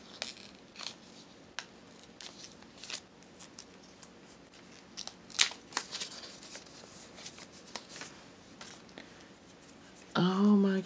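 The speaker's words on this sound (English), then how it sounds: "let me open this envelope" A paper envelope from a prize pack is torn open, with soft rustling and crisp tearing crackles up close at low volume, and one sharper rip partway through. A voice comes in at the very end.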